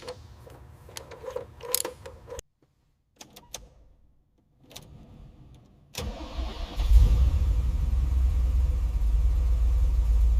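A restored 1967 Lamborghini Miura engine, first a few scattered ticks and a short quiet gap, then a loud, steady, deep idle rumble that stays close and even until the end.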